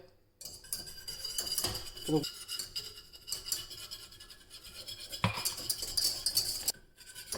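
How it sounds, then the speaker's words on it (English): A metal whisk scrapes and clinks against a pan in steady stirring strokes as flour is whisked into hot butter for a mac and cheese roux, close by, with a brief louder clatter partway through. "now at that point we can add the flour gradually, and we're going to whisk"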